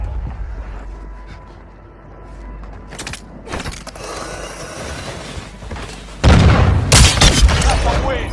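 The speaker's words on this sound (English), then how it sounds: "Enemy precision airstrike." Precision airstrike explosions in Warzone Mobile: quieter mechanical game noise, then a sudden loud run of heavy booming blasts that rumble on close by.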